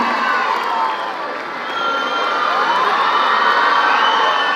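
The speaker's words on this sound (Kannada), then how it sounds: "ನಿಮ್ಮೆಲ್ಲರ ಚಪ್ಪಾಳೆಗಳ ಮುಖೇನ ಸ್ವಾಗತಿಸಿ" A large audience at a state Constitution Day ceremony cheers and claps loudly to welcome Chief Minister Siddaramaiah, a dense, continuous roar of voices and hands that swells slightly toward the end.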